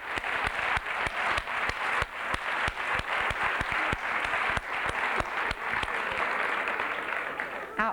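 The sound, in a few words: audience applause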